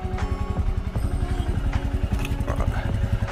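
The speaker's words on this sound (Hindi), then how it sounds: "बाइक मेरी स्टार्ट है" A motorcycle engine running after starting on a mountain road between Nainital and Dehradun, idling with a close, steady thumping pulse and some clattering knocks.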